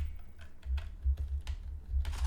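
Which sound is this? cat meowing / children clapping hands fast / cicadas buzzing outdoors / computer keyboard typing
computer keyboard typing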